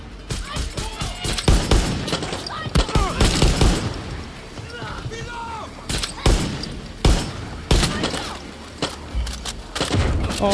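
Dense bursts of gunfire from a Far Cry 6 firefight fill the scene, with rapid volleys, thuds and booms overlapping at close range and a few voices talking briefly in between.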